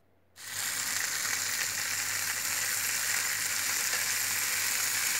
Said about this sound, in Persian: کناره های استیک رو به این شکل نگه داشته تا سرخ بشن